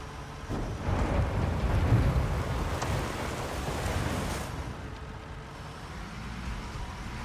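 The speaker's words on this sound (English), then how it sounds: "a heap of dirt falls out of the truck" A heap of dirt tips out of a truck bed in Construction Simulator on PS5, a broad rushing rumble that swells over a few seconds and then eases into a softer continuing hiss, with no voices.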